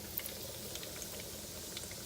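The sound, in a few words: chicken pieces sizzling in hot oil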